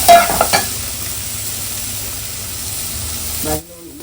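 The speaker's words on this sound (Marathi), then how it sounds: "चांगली तेलात परतून घेऊ बरं" Prawns fry and get stirred in hot oil for a prawn masala, a loud continuous sizzle with a couple of scraping stirs at the start before the sound suddenly drops away near the end.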